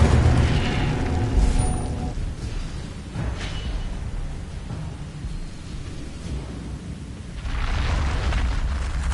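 The Incendio fire spell in Hogwarts Legacy explodes as a deep rumbling burst that rolls and fades, followed by swelling fiery whooshes and a second surge near the end, with no voices.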